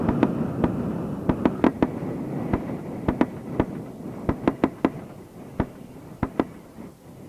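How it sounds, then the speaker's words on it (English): Fireworks burst in a loud irregular volley of sharp cracks and booms, some in quick clusters and others spaced apart, with no talk. "Big, big boomers. Fireworks."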